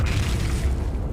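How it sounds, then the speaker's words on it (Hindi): Cannon fire in a city-destruction video game: a heavy, loud explosive boom with deep rumbling low end that sustains and slowly decays over about a second, heard alone. "तोप दागो।"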